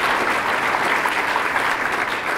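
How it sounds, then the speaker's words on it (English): An audience at a university lecture claps in loud, dense, steady applause that continues without pause, no speech over it. "If we could give them all a round of applause"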